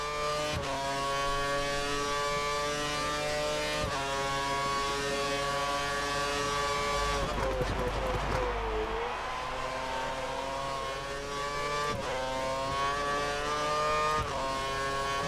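Formula 1 race car engines from the F1 2013 video game scream in a continuous high-pitched whine at the Italian round. The pitch climbs and drops sharply through gear changes, with a brief rough, noisy dip mid-way, loud and close throughout.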